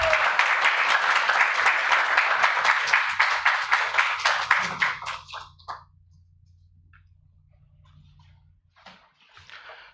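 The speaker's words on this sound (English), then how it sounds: "Please give a round of applause for our mayors." Applause for the mayors of York, Pennsylvania and Aguadilla, Puerto Rico at a sister city partnership ceremony, a dense burst of clapping that thins out and fades after about five seconds, leaving low room hum and a few faint sounds.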